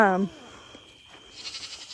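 Goats bleating on a homestead farm: one loud, close, wavering bleat at the start, then quieter animal sounds and a faint higher call near the end, alone with no talk.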